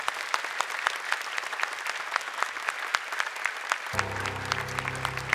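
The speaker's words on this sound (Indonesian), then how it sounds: "tepuk tangan untuk Anissa." A studio audience at an Indonesian Quran-memorisation quiz show applauds a contestant, a steady dense round of clapping heard alone, moderately loud throughout, with a low musical sting entering near the end.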